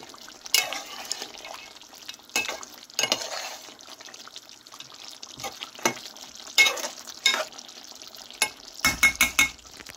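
Mutton sautéing in a pan with curry leaves, bay leaves and spices, a soft continuous sizzle punctuated by a string of distinct scraping stirs, ending in a quick flurry of clattering strokes, close and without talk.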